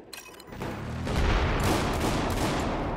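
Shotgun fire in the Battlefield 4 shooter game, a thick blast swelling into a dense, sustained wash of gunfire and rumble over a few seconds.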